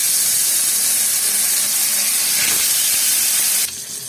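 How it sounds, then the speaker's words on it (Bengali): Bele fish frying in plenty of hot oil in a wok: a loud, continuous, close hissing sizzle like spraying steam, dropping off sharply near the end. "তো এর মধ্যে আমি মাছগুলো একটু ভাজতে দিয়ে দিচ্ছি"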